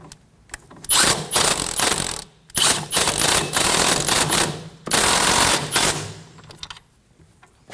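Ratchet tightening a front strut nut on a Ford Edge, rapid clicking in several bursts of a second or so with short pauses between, close and crisp.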